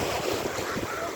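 Surf and breeze on a Nha Trang beach in Vietnam, a steady broadband wash of waves with wind rushing over the microphone, close and fairly loud with no talk.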